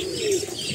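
A single short pigeon coo, soft and fairly close, over faint background noise.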